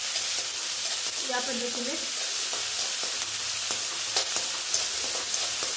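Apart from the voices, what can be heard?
chopped onion sautéing in a pan for upma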